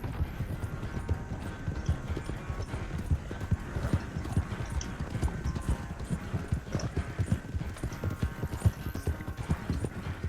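A horse's hooves clip-clop in a steady, continuous rhythm at a walking or trotting pace in Red Dead Redemption 2, close and clear with no talk.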